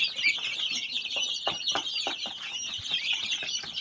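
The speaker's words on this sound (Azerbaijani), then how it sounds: "Bu cücələrin oynamağı var, hava ortada oynayır hərdən biri" Small chicks cheep in a steady stream of high, overlapping peeps close by, with soft clucks and scratchy movements mixed in, no talking.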